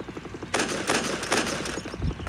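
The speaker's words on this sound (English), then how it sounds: "I'm just gonna shoot these cops." Gunfire aimed at police in a video game, several loud cracking shots in quick succession over a steady background of game sound.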